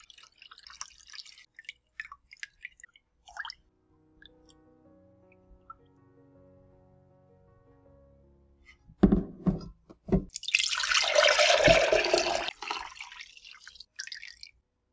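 Fresh lemon juice squeezed into a lemonade syrup mix: scattered faint drips first, a quiet lull, then a close, louder burst of wet squishing and trickling liquid toward the end, with no voices.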